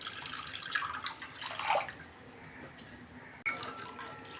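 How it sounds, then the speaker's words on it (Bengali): Water pouring into a pan to make sugar syrup, a close splashing stream that fades, then a sharp knock and a brief renewed splash. "ততক্ষণ আমি একটা চিনির শিরা তৈরি করে নিই। এই যে জল দিচ্ছি"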